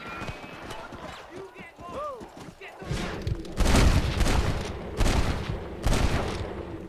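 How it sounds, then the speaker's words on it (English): A shootout in Red Dead Redemption with horse hooves clopping and a whinny, then loud volleys of gunshots cracking in repeated bursts, with voices talking throughout. "Oh, look at that gunplay!"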